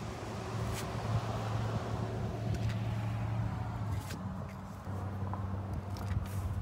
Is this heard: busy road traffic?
yes